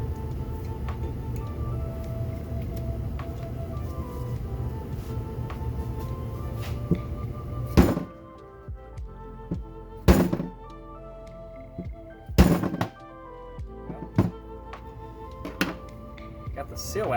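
A chisel and pry bar are hammered against a Miata steering rack seal, giving several sharp metallic knocks separated by a few seconds, after a stretch of steady workshop noise and talk.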